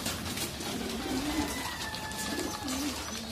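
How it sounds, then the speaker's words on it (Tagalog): Racing pigeons coo nearby, a few soft, low, rolling calls repeating over a steady background hum, with no one speaking. "Ito mga kalapatids, si Destiny, gutom na gutom talaga."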